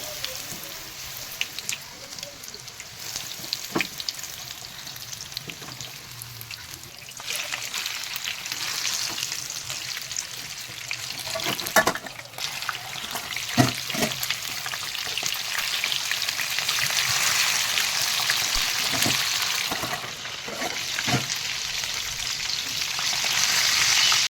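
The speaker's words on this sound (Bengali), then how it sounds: "এবারে আমি তেল গরম হয়ে গেছে আমি ভাজবো একটু সময় নিয়ে একটু লো ফ্লেমে করলে ভালো হবে ব্যাটার ভাজাটা একটু ভালো হবে" Battered chicken pieces fry in hot oil over a low flame, giving a continuous, rain-like sizzle that grows denser and louder, with occasional clicks of the utensils.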